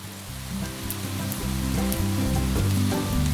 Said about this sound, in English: it's not light rain